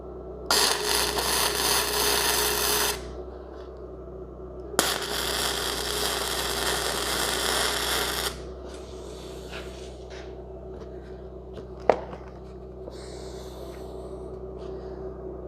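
A BestArc MIG145 MIG welder lays beads on quarter-inch steel plate, giving two loud, steady crackling hiss bursts of a few seconds each, followed by quieter shop noise and a sharp click.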